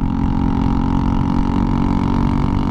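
A motorcycle engine running with its exhaust pipe broken off, a loud, raw, continuous drone that stays close and steady throughout without any talking.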